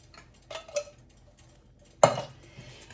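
A can of fire-roasted tomatoes is tipped into a pot of Cajun 15-bean soup: a couple of soft metallic clinks, a pause, then one sharper clatter and splash.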